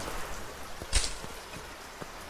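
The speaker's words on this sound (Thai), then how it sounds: "ฝนตกนะฮะ" Rain falls in the farming game Deiland Pocket Planet, a soft steady patter with a few scattered drops and one brief louder splash, heard alone.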